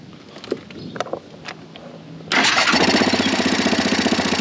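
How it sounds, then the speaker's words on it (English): A few quiet clicks and knocks, then a small quad bike engine catches and settles into a loud, steady, rapid putter close by. "Go ahead and turn the quad on."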